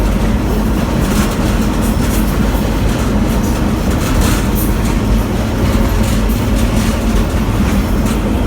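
An Amtrak Coast Starlight train pulls into the Roseville, California station, a steady loud rumble of rolling wagons with faint clickety-clack, unbroken and close for the whole stretch, with no voices.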